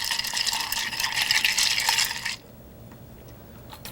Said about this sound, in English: Stir 12 times.